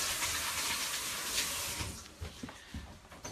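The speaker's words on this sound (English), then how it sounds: "I'll rinse my hands off." Tap water running in a kitchen sink while hands are rinsed, a steady close gush that turns uneven with splashes and small clunks toward the end, with no speech.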